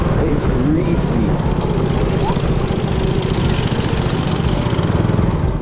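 Go-kart engines drone on the Rednal race track, a dense, constant buzzing roar held at an even loudness throughout with no pauses.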